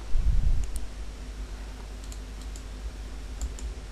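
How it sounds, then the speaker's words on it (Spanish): A computer mouse clicks a few times, soft and sparse, on a PC, after a brief low thump at the start and under a steady low hum. "Si queremos le podemos dar un clic aquí"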